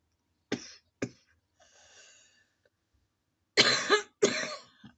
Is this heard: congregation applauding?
no